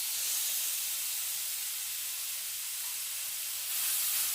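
Marinated chicken skewers in a frying pan give a loud, close, continuous hiss and sizzle that swells slightly near the end, with no talk.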